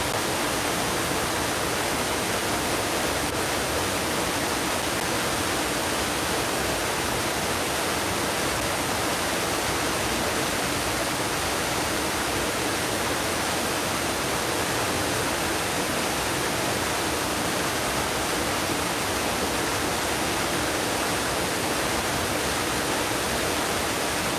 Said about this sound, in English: because it is really windy out there